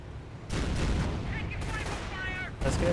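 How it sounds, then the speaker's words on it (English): Sniper rifle fire in Company of Heroes, loud sharp reports with a burst at the start and again near the end, layered over continuous battlefield rumble and other gunfire, with a voice talking over it. "Sniper firing away."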